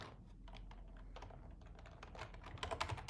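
Keys clattering on a computer keyboard while someone codes a Chrome extension tutorial in Flutter, quiet irregular taps that grow into a faster, louder burst near the end, with no one talking.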